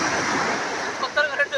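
Water pours and splashes down continuously, a broad rushing wash like surf or a small fountain, with a few sharper splashes near the end and voices talking over it.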